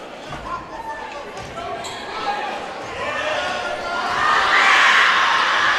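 The student section screams during a free throw at a high school basketball conference game, with the crowd roar swelling louder toward the end and a commentator talking over it.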